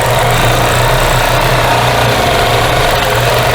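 A quilting machine stitches a double wedding ring quilt with a loud, steady motor hum and fast needle vibration that runs continuously throughout.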